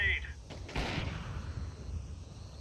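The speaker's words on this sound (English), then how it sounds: "Throwing a grenade." A grenade goes off in a tactical shooter match, one sharp close blast followed by a short rumbling tail, with game sounds around it.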